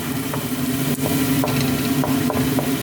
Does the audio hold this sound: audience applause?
no